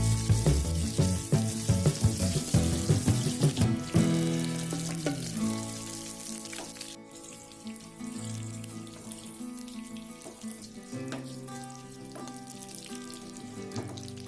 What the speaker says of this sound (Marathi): त्यानंतर त्यातच पनीर क्रिस्पी फ्राय करून घ्यायचं आहे